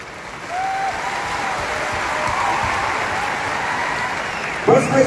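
An audience claps continuously as a steady wash of applause that swells slightly and carries on, with a faint tone running underneath before a brief burst near the end.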